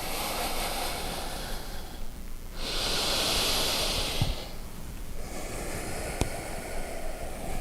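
Slow, deep breaths during a yoga class come close and breathy, a long hissing inhale then exhale in steady rhythm, with soft background noise between them.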